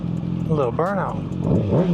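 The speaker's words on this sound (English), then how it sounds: "A little burnout." Kawasaki ZX6R with a Yoshimura exhaust revving hard during a burnout, loud close engine sweeps rising and falling in quick surges.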